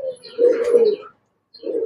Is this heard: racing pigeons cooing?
yes